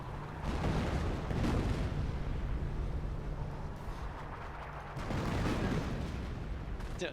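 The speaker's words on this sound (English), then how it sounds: "Dodging artillery shells. Lots of artillery in this game from both sides." Artillery shells in the Company of Heroes battlefield crash with dense, heavy rumbling booms, and the explosions blend into a continuous roar that surges at the start and again near the end.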